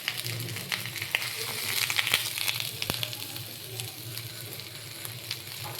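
Vegetables sizzle in hot oil in a pan, a continuous close hiss with scattered crackles and stirring clatter, louder in the middle stretch, with no talking.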